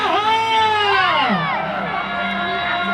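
A large outdoor crowd of fans in Salyan cheers and shouts loudly and continuously, a dense wash of excited voices with high whoops rising above it, and no clear clapping stands out.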